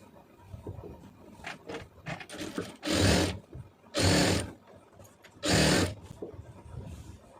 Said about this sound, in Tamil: அந்த ஒட்டில் வந்து தையல் போடுங்க